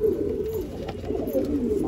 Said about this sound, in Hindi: ये है दोस्तों अपना जीरा कबूतर